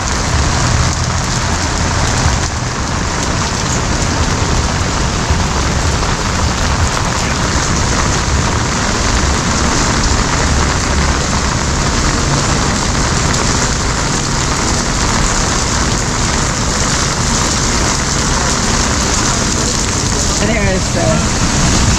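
Steady hiss of rain falling on a wet cobblestone street in Savannah, constant and fairly loud throughout, with a faint voice now and then beneath it.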